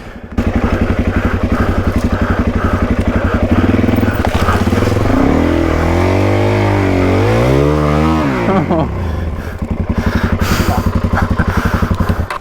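Dirt bike engine held on the throttle while riding through soft, deep sand on a remote track toward the top of Australia, a loud, close, steady rumble with pitch swooping up and down as revs rise and fall.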